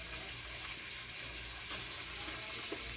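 Fish sizzles and crackles in hot oil in a frying pan, a dense, steady hiss with no pauses and no voices, close and fairly quiet.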